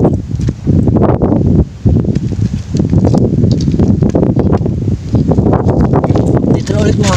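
Strong wind by the sea roars and buffets the microphone continuously, with a voice talking underneath the gusty rumble.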